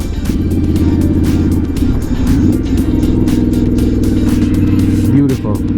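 Triumph Scrambler 1200 motorcycle riding, its engine a loud continuous rumble with low throbbing and small popping and crackling notes up close, wind noise over the top and a voice speaking briefly.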